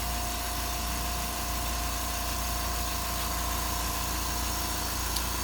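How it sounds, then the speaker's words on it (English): A shop air compressor runs steadily, a constant low motor drone and whine that stays level and unbroken throughout, with no talk over it. "Love how quiet this compressor is. I just left it running during this whole clip."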